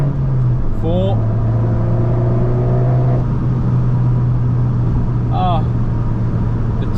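An Abarth 595 turbo hums at steady cruising speed with a low, constant engine drone and road rumble, brief chirps and whooshes, while people talk over it.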